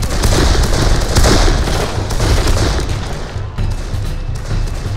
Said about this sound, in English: Come on, guys, you can all start shooting, too.